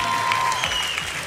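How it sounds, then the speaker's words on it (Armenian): An audience applauds the winners at a results ceremony, with dense steady clapping throughout. "Հաղթողներն ենք ծափարում"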